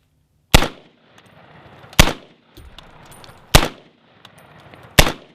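Four sharp, loud unsuppressed shots from a semi-automatic .308 rifle fired outdoors at night, spaced about one and a half seconds apart, each a hard crack followed by a brief decaying echo.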